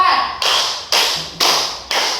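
A group claps in unison on a counted rhythm in a classroom: four sharp, loud, evenly spaced claps, each ringing briefly before the next, with no one talking.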